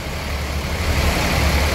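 Bus engine idling at a busy bus station in Bandung, a steady loud low rumble running throughout the short stretch with no voices.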